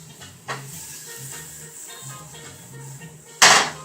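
Butter hitting a hot pan beside N.Y. steak: soft sizzling hiss with faint low hum, a short sizzle burst early on and a sharp loud hissing flare near the end.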